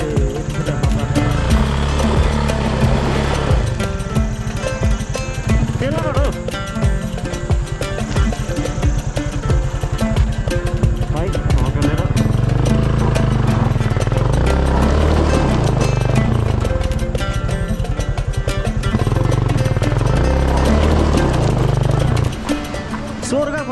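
A motorcycle rides over a rough, broken road somewhere in Nepal. Its engine drones loud and steady for the whole stretch, with a voice now and then over the noise.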